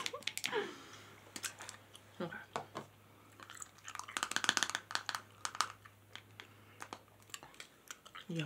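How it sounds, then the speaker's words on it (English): Watermelon chewing gum is smacked and chewed close to the ear, with irregular wet clicks and snaps in quick bursts and a quiet voice in places. "I'm not used to smacking my gum."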